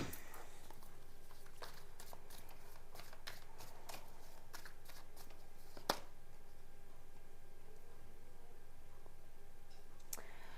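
Tarot cards being shuffled in repeated quick riffles and soft clicks, close but quiet against a faint background hum, with one sharper snap partway through and no voice.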